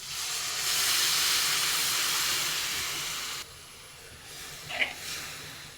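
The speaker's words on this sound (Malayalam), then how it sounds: "നമുക്ക് ഇതിലേക്ക് വെള്ളം ഒഴിച്ച് കൊടുക്കാം" A loud hiss of water poured into a hot pan while cooking cabbage curry, bursting up sharply then easing into a softer sizzle before fading to quiet crackles near the end.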